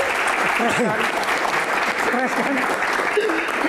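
Audience applause on an Indonesian Q&A talk show, sustained clapping throughout with several voices speaking over it.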